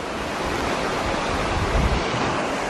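A river flowing on a walk near Ben Gunn's cave on Treasure Island makes a steady, broad rushing wash, loud and continuous, with some wind buffeting on the microphone.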